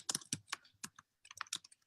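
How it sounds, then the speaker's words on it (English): Quick bursts of typing on a computer keyboard, with crisp, close key clicks in short uneven runs and a brief pause before a final flurry. "So I'm just typing right now."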